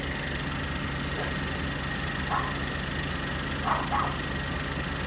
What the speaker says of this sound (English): Maganda po yung tunog ng makina